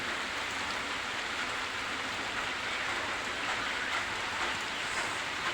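Heavy rain falls outside in a steady, unbroken hiss, fairly soft and with nothing else over it.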